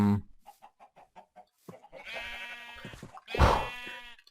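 Minecraft chicken clucking in a run of short, evenly spaced clucks, followed by longer squawking calls, close and clear with no talk over it.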